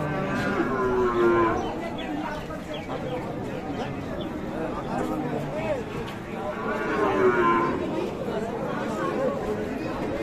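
Cattle at a livestock market bellow and moo in long low calls over steady crowd chatter and nearby talking voices throughout.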